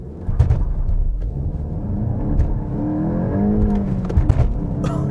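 A 2023 Volkswagen GTI hot hatch with a manual clutch pulls away from a standstill, its engine droning and rising steadily at close range for several seconds, with no talk.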